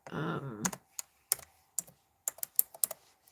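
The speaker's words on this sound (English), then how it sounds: "Let me type Robert." Typing on a computer keyboard, a few separate bursts of quick key clicks with pauses between, close and clear, after a short spoken phrase at the start.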